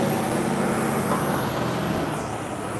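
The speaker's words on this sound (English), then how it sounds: "Garbage truck." A garbage truck passes close by on a city street, a steady, heavy roar of engine and road noise lasting a few seconds with no voices.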